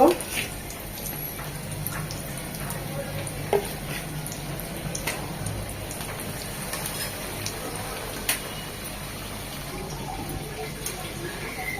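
Chicken cutlets frying in a pan make a continuous crackling, rain-like sizzle with scattered sharper pops. Faint background talk can be heard.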